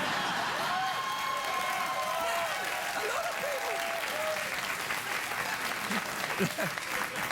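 A late-night television studio audience claps and cheers in a sustained, dense wave of applause, while someone speaks over the noise as it carries on.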